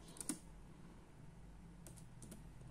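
A computer keyboard being typed on in a quiet room, a short burst of soft key clicks near the start and another scattered pair of taps later.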